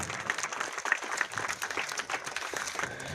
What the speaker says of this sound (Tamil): ஜூனியர் ரெட் கிராஸ் ஜூனியர்களுக்கு கரகோஷம் எழுப்பி பாராட்டுக்களை தெரிவிப்போம்.